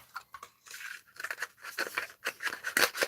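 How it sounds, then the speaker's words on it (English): Striped red paper being ripped off by hand, a close series of papery tearing bursts with a crinkly texture, fairly loud and unaccompanied by talk. "Just rip that bit off so I can reach it."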